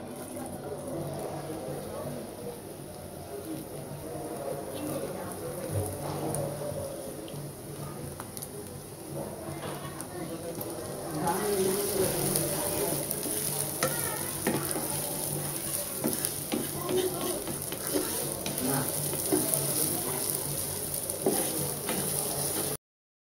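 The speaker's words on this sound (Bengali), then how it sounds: "পেঁয়াজটাকে আমি লাল করে ভেজে নিয়েছি।" Half a cup of chopped onion fries in oil or ghee for a yogurt eggplant dish, giving a steady, close sizzle with light stirring patter that grows noticeably louder and brighter partway through.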